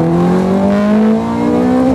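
Ferrari F430 Scuderia engine pulling while driving, a loud, smooth, steadily rising tone heard from inside the car, continuous and alone.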